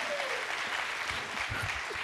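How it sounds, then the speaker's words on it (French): Audience applause at a Friday-night show, steady broadband clapping throughout with a faint voice tone sliding early on, moderately loud and sustained. "On applaudit pour ça."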